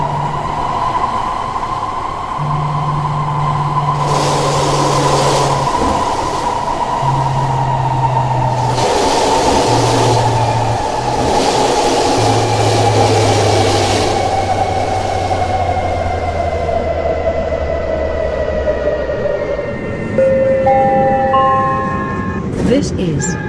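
A shuttle train runs in the openBVE simulator, steady motor hum and wheel rumble with rising and falling whine tones as it slows, while an onboard announcement voice speaks over it and a brief chime sounds near the end.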